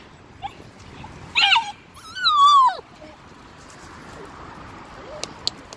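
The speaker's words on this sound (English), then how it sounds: "barking at everything" A miniature schnauzer gives two close, fairly loud high-pitched yelping, whining bursts, the second longer and wavering, with quieter yips and household noise around them.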